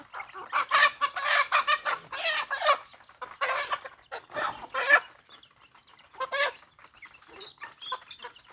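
Chickens cluck and squawk busily during an afternoon feeding on a farm, a close, continuous chorus of rapid clucks with short breaks and an occasional louder call.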